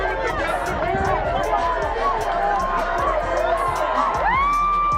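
A large crowd at a boxing fight cheers and shouts loudly, a dense roar of voices with whoops and clapping, continuous throughout.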